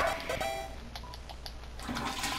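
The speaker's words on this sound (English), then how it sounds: "You flushed the toilet." A toilet flushing in the video game Deltarune: a steady rush of draining water lasting a couple of seconds, moderately quiet, with a brief gurgle near the end.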